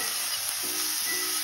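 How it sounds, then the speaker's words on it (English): Steady sizzling hiss of onion and garlic sautéing in a pan, soft and continuous with faint stirring clinks, no voices. "got my onion and garlic sauteing for a couple"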